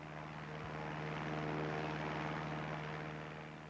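A running aeroplane propeller engine gives a steady, close, buzzing drone with a strong tonal hum, holding constant for a few seconds with no voices.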